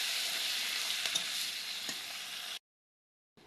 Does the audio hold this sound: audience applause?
no